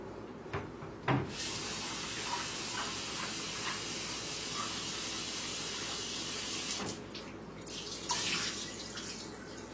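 Tap water runs steadily over raisins being washed, a continuous splashing hiss with brief louder surges and small clinks, close by with no voices.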